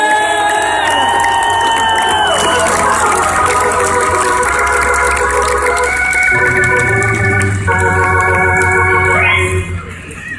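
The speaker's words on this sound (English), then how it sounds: "I want to give a round of applause to the Ricketts family for doing what they did." A huge outdoor rally crowd celebrating the Cubs roars and cheers nonstop, loud and dense, with horns or whistles blaring through it and shifting in pitch before the noise starts to fade at the end.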